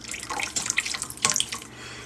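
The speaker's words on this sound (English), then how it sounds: "I'm going to add some holy water." Holy water splashes and trickles as it is poured into a fountain goblet, a close, bright liquid pour with uneven splashes lasting about two seconds and no talking.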